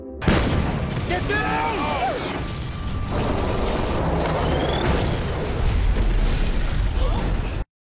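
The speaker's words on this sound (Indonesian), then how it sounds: "mereka diserang oleh kelompok Hagen yang menembakkan senjata-senjata kelas berat" A film battle erupts in heavy-weapons gunfire and explosions, with dense booming bursts and crackling volleys running continuously at loud level, plus a few whistling tones and a deep rumble toward the end.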